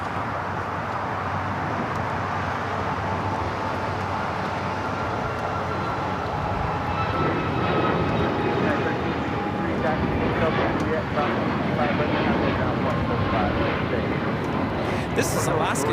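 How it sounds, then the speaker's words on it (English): An Alaska Airlines Boeing 737 MAX 9 takes off from LAX, a distant jet rumble that grows gradually louder over about sixteen seconds beneath a broad airport background wash. "This is Alaska Airlines 997 taking off to Los Cabos on the MAX 9"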